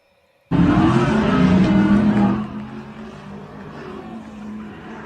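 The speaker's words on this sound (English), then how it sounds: "A ride along, in-car camera on the slot cars." Slot cars race past an in-car camera, a loud buzzing whine with squealing tires that bursts in suddenly, then drops to a quieter steady hum.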